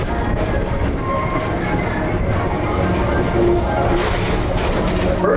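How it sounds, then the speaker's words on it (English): The Tomorrowland Transit Authority PeopleMover ride vehicle at Walt Disney World rolls steadily along its track with a continuous rumble and occasional faint squeals, while a voice talks over it. "your express train keeps on rolling through the future"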